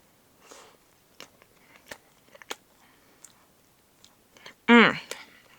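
Someone eats a cupcake, with soft, close chewing and sticky mouth clicks spread out over a quiet background, then a short voiced hum near the end.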